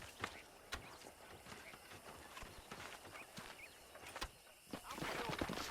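Horse hooves clip-clop steadily on the ground in the video game Red Dead Redemption during horse breaking, a near, even rhythm of hoofbeats with a brief whinny and low game sounds around them.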